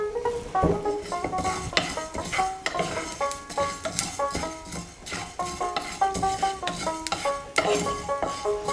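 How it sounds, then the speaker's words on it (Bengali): Radhuni seeds and mustard seeds dry-roasting in a dry pan, stirred constantly with a utensil that scrapes and clinks against the metal in quick, irregular strokes under a faint crackle. "হাফ স্পুন মতো রাঁধুনি দিলাম তো এটাকে শুকনো খোলায় ভালো করে নাড়ব ভেজে নেবো"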